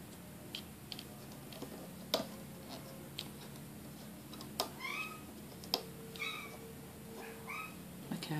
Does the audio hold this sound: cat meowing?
yes